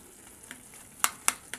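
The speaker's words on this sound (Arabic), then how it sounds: "نقليوه" Eggplant flesh frying in a pan sputters in a few sharp pops and crackles over a faint sizzle, close and without talk.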